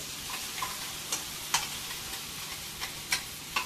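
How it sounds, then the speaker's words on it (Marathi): Ground chana dal paste is sautéed with onions in a pan, giving a steady low sizzle broken by light periodic taps and scrapes of a spatula. "वाटण परतून घेऊया आपण"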